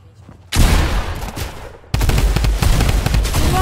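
Bursts of video game gunfire in an arena shooter, a sharp onset of rapid dense shots, a brief lull, then a second sustained volley of loud repeated shots close up.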